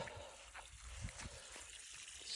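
Water running out of a freshly drilled well after turning clear, a soft continuous trickle and gurgle heard close and fairly quiet, with no talk over it.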